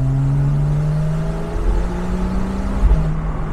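A Porsche engine revving as the driver downshifts on a Normandy country road, a steady close, loud in-cabin drone whose pitch falls and then rises again with a brief throttle blip.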